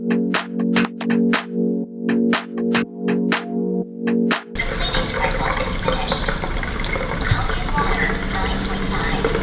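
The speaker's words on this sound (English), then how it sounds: "now you want to run the water, because it says notice is cleaning" A series of rhythmic electronic beeps from an Enagic LeveLuk K8 water ionizer in cleaning mode, then water gushes steadily and loudly from a tap for the rest of the clip.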